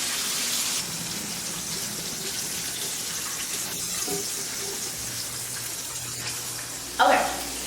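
Steady rushing water as cooked macaroni noodles are drained, a continuous splashing pour with no talk, ending in a short louder splash or clatter.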